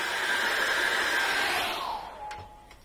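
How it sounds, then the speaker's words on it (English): Hair dryer blowing on acrylic paint on canvas, making a loud, steady whirring roar that winds down in pitch as it is switched off, leaving a faint tail and a couple of light knocks. "What I'm going to do now is I'm going to put the hairdryer on that."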